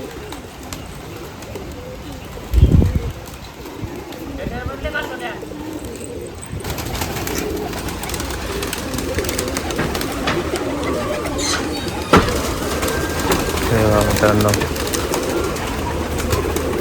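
Pigeons at a pigeon festival in Nashik, cooing and fluttering amid a busy outdoor crowd, with people talking throughout and a sharp thump near the start.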